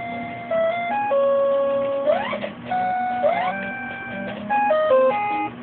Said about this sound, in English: if you take a game like Super Pitfall and you hear the music